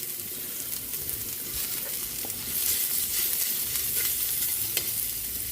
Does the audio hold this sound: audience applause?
no